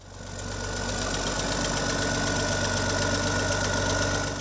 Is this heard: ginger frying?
no